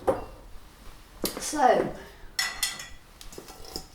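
A wok and pans clank and scrape in a home kitchen during vegan cooking, with a few sharp metallic knocks and rattles spaced out over several seconds while a person talks nearby.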